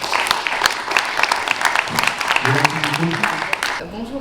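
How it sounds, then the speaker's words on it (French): Audience applause at a national day event hosted at France's Assemblée nationale, with dense clapping filling the room throughout and a voice starting to speak over it toward the end. "On vous applaudit."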